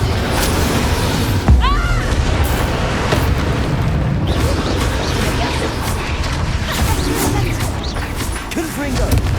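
Confringo blasting-spell explosions in the game Hogwarts Legacy, with booming blasts and crashes over dense, loud combat effects that continue throughout, with a whooshing magical sweep near the start and no spoken voice.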